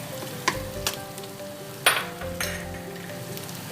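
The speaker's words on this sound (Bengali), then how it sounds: "খুব সামান্য পেঁয়াজটা এদিকে ভাজা হয়ে গেছে।" Onion frying in a pan for a light rohu fish and cauliflower curry: a steady close sizzle running throughout, punctuated by a few sharp clinks of a utensil against the pan, with no talking.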